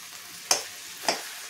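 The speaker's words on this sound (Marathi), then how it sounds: "आता आपण त्यात मंचुरियन बॉल्स टाकून द्यायचे" Crispy veg manchurian balls dropped into gravy in a pan, making three brief soft plops at a steady pace over a faint sizzle.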